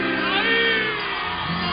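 A concert crowd cheers, whoops and shouts with sustained roaring energy as a salsa singer is welcomed at the 8th National Salsa Day, the noise loud and dense throughout with music tones running underneath.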